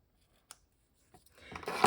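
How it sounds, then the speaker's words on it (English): Scissors cut through card paper while making a masculine Christmas card: a single sharp snip, then a couple of faint clicks, followed by a louder, rising rasp of the blades slicing through the stock, close and quiet. "And I ended up having to cut it because it was a little too big."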